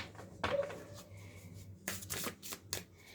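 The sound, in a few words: tarot cards falling while shuffling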